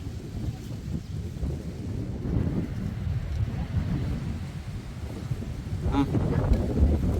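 Strong wind gusts through mango trees, a rough, low buffeting roar against the microphone that swells slightly toward the end, with a brief voice faintly underneath.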